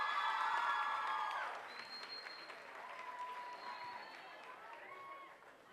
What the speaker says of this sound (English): Give him another round of applause for that.